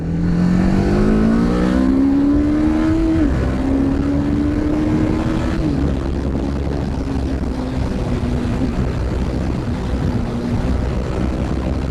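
An older Apache RR 310 motorcycle rides along a road at sunset, its engine note rising through gears with a loud, steady drone and wind rush close to the mic.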